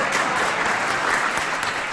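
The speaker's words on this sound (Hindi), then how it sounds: "तालियां।" An audience claps at a live Hindi poetry and talk show, dense and loud applause filling the whole moment without a break, with no voices on top.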